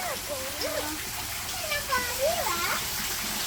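Holy spring water flows steadily at a temple spring, a continuous splashing wash heard close, with adults and children talking over it.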